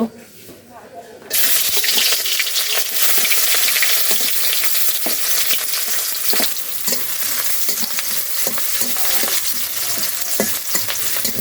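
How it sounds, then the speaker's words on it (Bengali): After a brief quiet start, a loud, steady sizzle of onions frying in hot oil, with scraping stirring clicks throughout. "পেঁয়াজটা নেড়ে ছেড়ে দিচ্ছি একটু ভাজা হোক"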